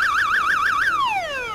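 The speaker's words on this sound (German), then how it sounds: "Das ist der Alarm von meinem hexischen Warnkreis." A magic warning circle alarm in the Bibi und Tina video game sounds a loud warbling electronic tone that wobbles rapidly up and down, then slides steadily downward, with no voices over it.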